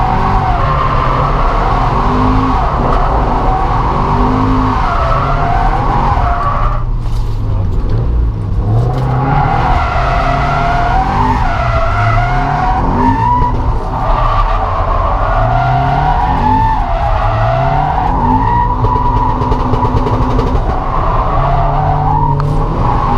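A Toyota GT86 drifting on a track, its engine revving hard while the tires squeal and skid in long, loud, wavering sweeps that continue without a break.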